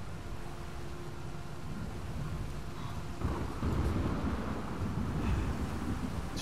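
Thunder in a stormy scene of the video game Uncharted 4, a deep continuous rumble with rain and wind-like noise that swells louder partway through, with no voices.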